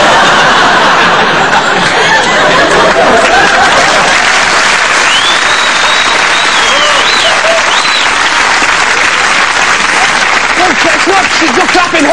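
Sustained, dense applause from a large stand-up comedy audience fills the clip, with scattered laughter and a few voices rising over the clapping.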